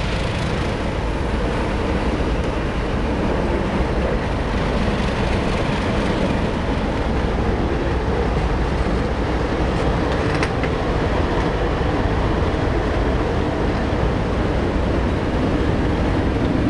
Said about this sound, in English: The two diesel locomotives are now making their way back to Thirlmere.